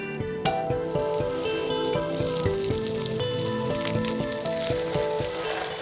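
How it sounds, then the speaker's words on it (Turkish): Meat ribs sear loudly in hot oil in a cast-iron pot, a close, continuous crackling fry, with music playing in the background. "Hemen mühürledi, güzelce kızardı."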